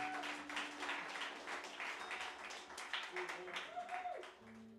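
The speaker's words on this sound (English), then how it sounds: "Can we give it a round of applause for Ralph for making it sound so pretty in here every time we play?" Audience applause at a live music venue, a steady wash of clapping with scattered tones from the stage, fairly faint and continuous throughout.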